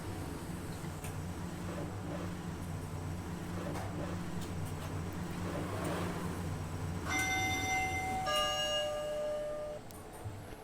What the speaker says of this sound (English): I love that Schindler chime.